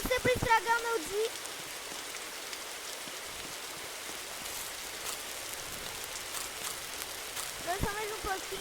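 Steady rain patters in a survival video game, a constant hiss of falling drops throughout, with a voice speaking briefly at the start and again near the end.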